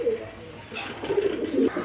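Pigeon cooing from a pale-blue Raj-Golla pigeon among birds being shown for sale, with a few soft, low throaty coos in short bursts close by.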